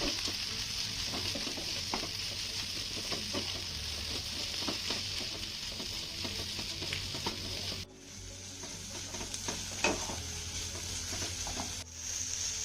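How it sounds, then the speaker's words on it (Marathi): A steady sizzle of ingredients sautéing in a pan for a wheat-flour snack, with frequent stirring scrapes and small crackles running continuously and close, with no speech. "हे सर्व साहित्य आपल्याला पुन्हा दोन ते तीन मिनटं छान असं परतून घ्यायचं आहे"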